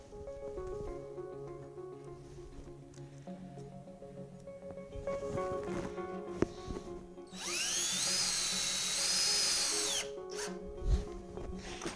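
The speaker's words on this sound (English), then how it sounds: "Careful not to drill too tight because you might strip the wood" Power drill driving small screws into a wooden table while mounting a silk screen printing press, a rising whine bursting in loudly for a few seconds after quieter tonal shop noise and light clatter.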